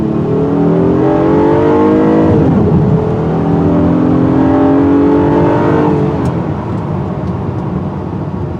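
A 2021 Honda Odyssey minivan's 3.5-liter V6 engine revs loudly and continuously nearby, its pitch climbing, dipping, then climbing again as it accelerates.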